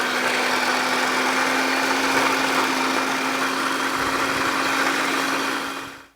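A food processor chops mushrooms, a loud steady motor whir with a constant hum that holds evenly before spinning down and cutting off at the end.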